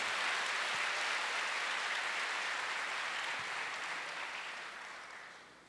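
Church congregation applauding together during a sermon, a dense, steady wash of clapping that holds for several seconds and then gradually thins and fades.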